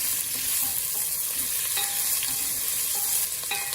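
Onions sauté in a pan for a wudham dhall, a steady close sizzle with repeated spoon scrapes and clinks against the pan, and no talking.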